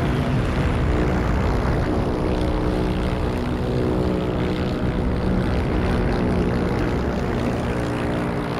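A propeller aircraft flies in the video game Heroes & Generals, its engine a steady, loud, droning roar that holds unbroken from start to finish.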